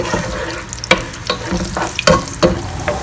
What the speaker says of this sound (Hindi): प्याज गोल्डन ब्राउन हो रही है